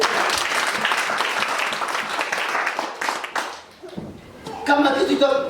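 A church congregation claps and applauds in praise of Jesus, a dense crowd clapping for about four seconds before it thins out, followed by scattered claps and voices at the end.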